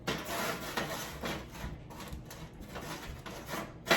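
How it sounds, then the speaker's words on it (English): A raw garlic clove rubbed over the crusty tops of hot toast gives a steady, close scratchy rasping in repeated strokes, fairly quiet, with no voices. "we're just rubbing the crusty tops on the hot pieces of toast"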